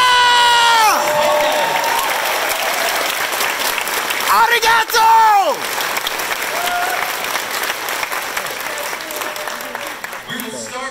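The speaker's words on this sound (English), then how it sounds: "Please give them one more round of applause." Audience applause and cheering for distinguished guests at a 2019 Los Angeles event honoring Katsuhiro Otomo, loud and steady throughout, with whoops and shouted voices over the clapping, briefly dipping midway before continuing.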